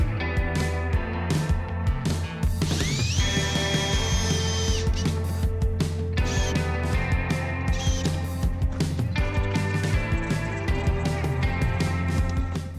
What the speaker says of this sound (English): I attach the cabinets to the wall and then to each other by screwing through the face frames